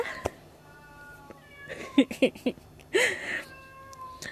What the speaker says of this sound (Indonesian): Kalau kamu dengar suara kucing, biasa kucing aku lagi paduan suara.